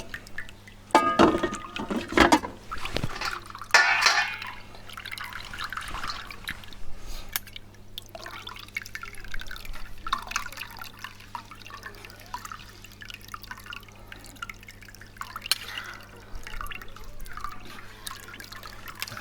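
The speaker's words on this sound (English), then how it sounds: "And tip this hopefully into the sieve" Mozzarella curds and whey tip from a pot into a sieve: a few bursts of splashing and pouring early on, then a long stretch of soft dripping and trickling as the liquid drains, close by and with no talking.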